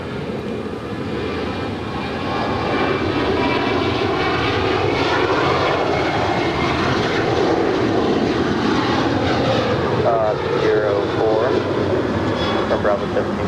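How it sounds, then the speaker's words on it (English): An American Airlines Boeing 787 Dreamliner departs LAX, its jet engines a loud continuous roar that swells and holds, with a voice and radio chatter over it. "It's that Dallas early morning 7 a.m. flight on the Dreamliner, an American."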